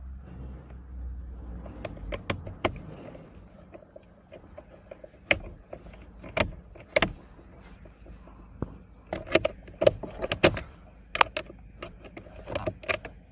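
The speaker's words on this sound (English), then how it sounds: "we're going to be using a T25 bit to remove these screws" A T25 bit removes steering column trim screws on a VW Golf Mk5, giving scattered sharp clicks and ratchety ticks with quiet pauses and faint handling noise between them.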